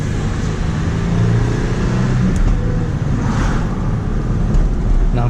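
A manual-transmission Jeep Gladiator pulls away with a rough, jerky shift: loud, steady engine and drivetrain rumble close up, with a brief bump in the noise partway through.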